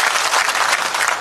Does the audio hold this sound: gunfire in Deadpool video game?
no